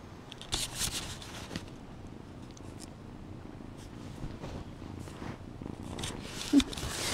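An eight-week-old kitten, half Persian and half Maine Coon, purrs steadily and close up in a continuous low rumble, with a few soft rustles and brief louder bumps and no talking.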